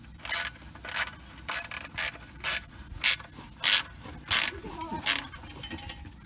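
Wrench clicks while tightening the oil drain plug on a 2005 Ford Mustang, about ten short ratcheting bursts in an irregular rhythm, close and moderately loud, with no talk.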